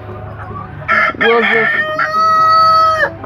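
Loud agitated squawks and drawn-out clucking calls from hens wearing chicken saddles close by, with a brief spoken phrase near the start.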